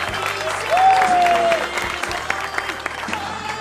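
Audience at a televised Indonesian stand-up comedy show clapping in a steady, moderate wash, with a few scattered claps standing out and faint voices underneath.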